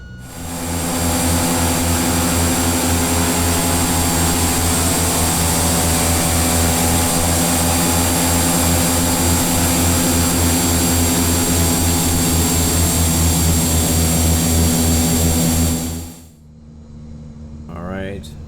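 A Cessna 208B Grand Caravan EX turboprop taxis in the X-Plane 11 flight simulator, its loud, steady engine drone carrying a constant whine for about sixteen seconds before it drops away to a much quieter hum.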